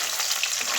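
Pabda fish frying in hot oil in a pan makes a loud, bright, continuous sizzle with no talking.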